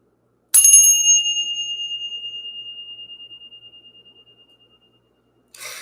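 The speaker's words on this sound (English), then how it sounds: "Let's ring the bell." A single bright bell strike rings out clearly and close, its pure tone slowly decaying over several seconds, followed by a faint rustle.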